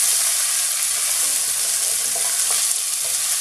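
Onions fry and get stirred in a hot pan, making a loud, dense, unbroken sizzle close up with faint utensil movement underneath.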